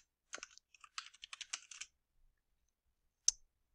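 Keys clatter on a computer keyboard in a quick burst of typing and backspace presses, then a pause and one final sharp click, close and quiet in an otherwise silent room.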